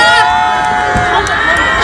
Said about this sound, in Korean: 모두 박수와 환호 부탁드립니다